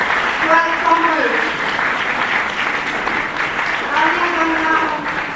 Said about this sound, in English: Continue clapping for Jacob Landon, 12th college.